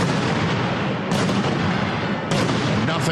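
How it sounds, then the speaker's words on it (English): Cannons fire over a dense, roaring crowd at a football broadcast, two heavy booming blasts about a second apart cutting through the continuous wash of noise. "It's the firing of the cannons."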